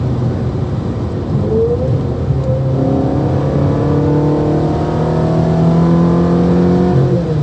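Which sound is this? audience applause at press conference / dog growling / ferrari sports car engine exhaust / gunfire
ferrari sports car engine exhaust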